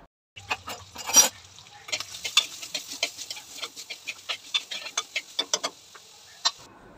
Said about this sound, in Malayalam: ചട്ടി വെച്ച് സവാള, വെളുത്തുള്ളി ഇതെല്ലാം കൂടി ഇട്ടൊന്ന് വഴറ്റിയെടുക്കുന്നുണ്ടേ